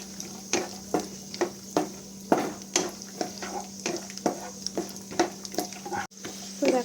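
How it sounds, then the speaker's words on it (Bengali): Peanuts fry in oil in a pan, a low sizzle running underneath while a spoon stirs them in a quick, uneven series of scraping strokes close up. "তো বাদামগুলোকে ভালো করে ভেজে নেব।"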